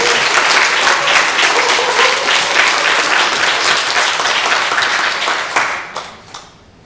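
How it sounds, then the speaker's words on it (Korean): A church congregation breaks into loud, dense applause for a musician about to perform, sustained evenly for several seconds before thinning out and fading into a few scattered claps. "먼저 크게 박수."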